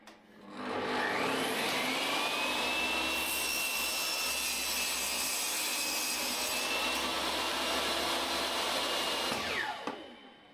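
A power saw cuts through a 12mm plywood sheet, spinning up with a rising whine, then holding a loud, continuous buzzing rasp for about eight seconds before winding down and stopping.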